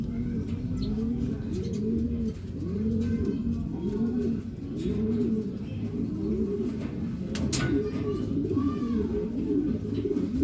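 Racing pigeons coo nearby in a steady, repeated series of soft, throaty rolling calls, overlapping one another, with faint chirps in the background.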